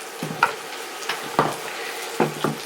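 Food cooking over medium-high heat in a pan for a shrimp stir fry, with stirring scrapes and clacks coming in a few separate bursts over a steady low sizzle.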